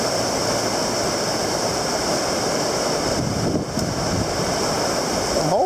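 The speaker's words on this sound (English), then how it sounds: "I can hear ice hitting it. There's ice hitting." Ice pelts down during a storm while someone is out mowing, a dense continuous hiss and patter of hitting ice with gusty wind rushing across the microphone, loud and unbroken, with no talk.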